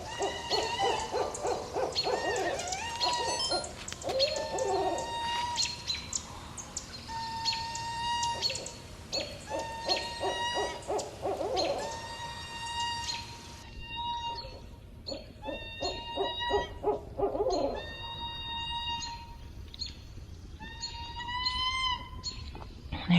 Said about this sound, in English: There's two owls.